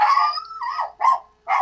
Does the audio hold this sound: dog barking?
yes